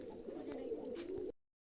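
Large pigeons coo softly in a low, rolling murmur close by, the sound running steadily for a second and a half before it cuts off abruptly.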